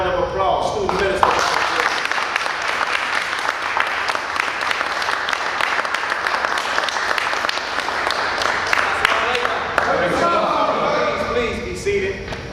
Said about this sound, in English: Please give our brother a thunderous warm round of applause.